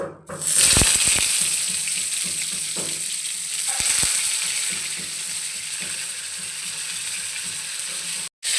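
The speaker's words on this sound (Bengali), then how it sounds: "প্রথমে পটলটা ভেজে নেব" Pointed gourd pieces coated in salt and turmeric sizzling loudly in hot mustard oil, a steady bright hiss with a few clinks and scrapes of a spatula against the pan early on.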